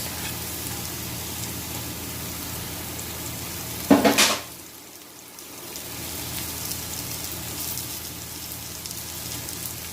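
Green peppers drop into a hot pan with a sudden loud burst of sizzling that fades into a quieter, steady frying hiss, following a softer crackle of hot oil beforehand.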